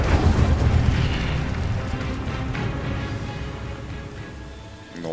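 An Incendio fire spell in Hogwarts Legacy lets out a roaring, rumbling blast of flame that starts loud and slowly tapers off over several seconds, with no voices over it.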